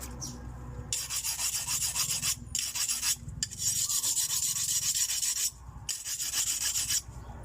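A knife blade being filed in both directions while its beak-shaped spur is dressed, producing long, loud rasping strokes in three or four sustained bursts separated by brief pauses, close up with no talking.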